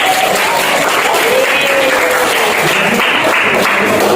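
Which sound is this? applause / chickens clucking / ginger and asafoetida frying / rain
applause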